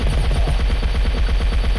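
Rapid automatic gunfire in an online video game plays as a loud, continuous stream of bursts with no pauses and no talking.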